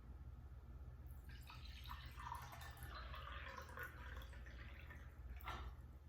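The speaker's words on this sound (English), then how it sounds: "Listen to the water as it pours." Water pours into a transparent jar, a faint trickle that brightens into a bubbling fill at close range. No one speaks over it.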